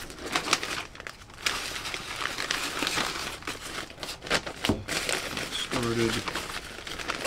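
Butcher paper crinkles and rustles in bursts as smoked corned beef from a Weber Smokey Mountain smoker is wrapped by hand, close and irregular, with a brief spoken word partway through.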